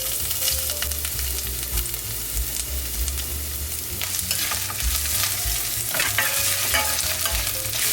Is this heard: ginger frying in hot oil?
yes